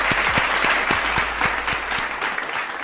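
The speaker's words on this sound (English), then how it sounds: "Clap it up for that man." A small group applauds steadily, with distinct individual claps cutting through the dense, continuous clapping throughout.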